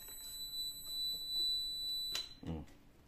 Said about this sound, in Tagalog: Tanggalin natin yung baterya para mawala yung alarm na yan.